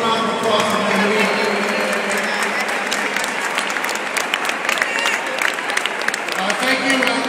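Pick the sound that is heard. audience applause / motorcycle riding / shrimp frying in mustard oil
audience applause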